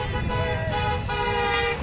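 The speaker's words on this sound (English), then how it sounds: "So you can't help but notice the honking." Several car horns honk at once at a roadside political rally in Macomb County, north of Detroit, sustained overlapping blasts filling the street with faint crowd noise beneath.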